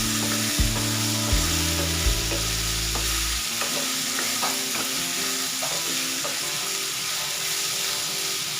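Ivy gourd pieces frying and being stirred in a pan, a steady close sizzle with a few scraping stir strokes early on, no voices.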